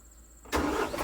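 A farm tractor used with a flail mower catches and starts abruptly after a moment of near silence, then runs with a loud, steady engine rumble close by.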